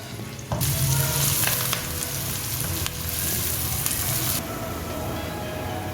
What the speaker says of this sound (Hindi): कढ़ाई में मैंने 1 कप ऑयल लिया है। अब हम इसमें प्याज डाल देंगे।